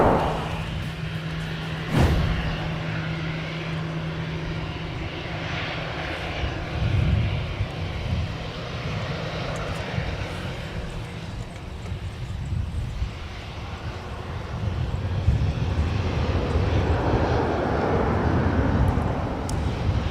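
An Airbus A321 jet airliner at Minneapolis–St. Paul Airport, a broad distant engine rumble with wind-like noise, building louder toward the end.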